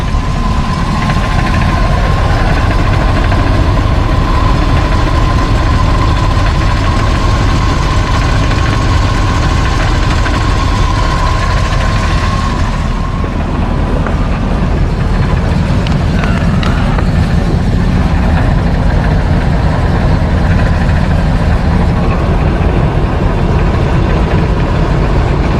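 A 1973 GMC C2500 pickup truck engine idles steadily and loudly throughout, a continuous low rumble with a faint steady whine in the first half, no talking.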